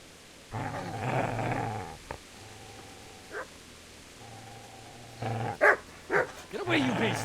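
A dog growls and barks in a modded medieval video game, low rumbling growls coming in bursts with sharper yelps near the end, mixed with someone shouting at it.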